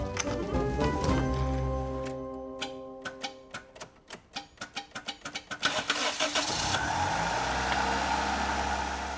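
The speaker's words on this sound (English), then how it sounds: "The engine runs like a different car." A rare Toyota car engine, freshly serviced after a fuel system flush, cranks with a burst of rapid ticking clatter, then catches and settles into a steady, fairly loud idle close by.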